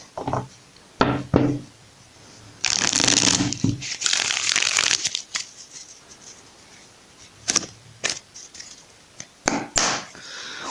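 Tarot cards being shuffled by hand in several bursts, crisp riffling flutters separated by short pauses and light taps, close and fairly loud with no talking.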